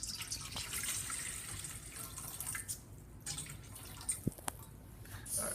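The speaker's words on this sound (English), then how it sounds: "So we start by adding the water to the bowl." Warm water poured into a bowl for Colombian arepa dough, a soft steady trickle and splash running throughout with a few brighter drips near the end.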